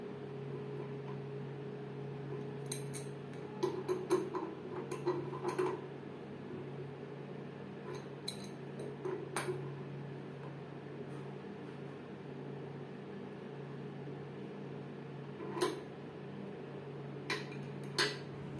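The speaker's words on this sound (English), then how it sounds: "Screw the cartridge back down and tighten it with an adjustable wrench." Adjustable wrench tightening a water tap cartridge, faint scattered metallic clicks and scrapes in small clusters over a steady low room hum, quiet and close with no speech.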